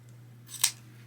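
A single sharp snip of scissors trimming ribbon on a paint stick swag decoration, close and brief over a low steady hum, no talking.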